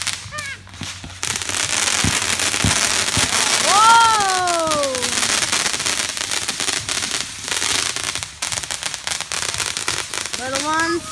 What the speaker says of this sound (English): Well, no, that's fireworks.